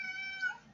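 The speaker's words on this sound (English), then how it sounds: "And that's my cat in the background." A house cat gives a single short meow in a home kitchen, faint and in the background.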